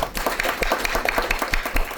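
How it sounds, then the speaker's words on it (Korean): A short burst of audience clapping for a guest speaker at a Korean insurance branch morning meeting, rhythmic and fairly close, from a modest group in a room. "박수 한번 쳐드릴게요"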